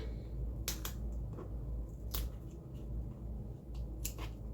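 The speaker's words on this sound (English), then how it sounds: "we can just take our scissors and snip those edges off" Scissors snip away the excess edges of paper on a double-page scrapbook layout: several crisp, close snips at irregular intervals over a quiet room background.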